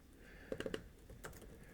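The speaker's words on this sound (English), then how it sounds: "I'm gonna get really good at typing Facebook ads after this." Fingers type on a computer keyboard in a quick cluster of four or five close keystrokes, followed by a couple of softer taps after a pause, nearby and otherwise quiet, no voices.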